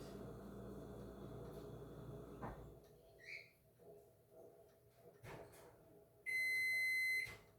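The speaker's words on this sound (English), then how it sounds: "that timer, that was the microwave telling me that those first 10 minutes are up" A single sustained electronic beep from a microwave timer, marking the end of a 10-minute bake, sounds clearly near the end, after quiet rustling and a few soft clicks in a kitchen.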